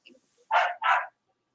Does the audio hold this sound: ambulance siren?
no